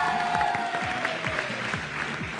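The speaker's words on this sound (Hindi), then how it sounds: "जिनके ख्याल में इनका शेर सबसे अच्छा था, तालियां बजा के बताएं।" Studio audience at a cricket-season television show applauds steadily and fairly loudly, a dense, continuous wash of clapping with no pauses.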